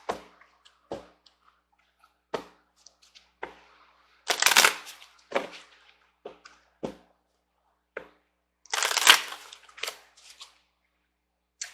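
A deck of angel romance oracle cards being shuffled by hand, giving soft, scattered riffles and taps with two longer, fuller shuffling bursts partway through, close and fairly quiet with no talking.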